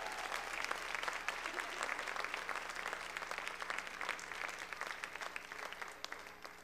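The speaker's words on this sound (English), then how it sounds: "give them another big round of applause." Church audience applauding at a Sunday service, a dense, even round of clapping that carries on steadily without talk, heard at a moderate distance.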